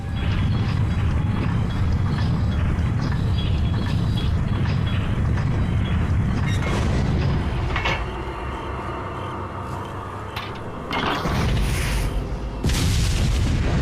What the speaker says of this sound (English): I guess you just blow it up with a cannon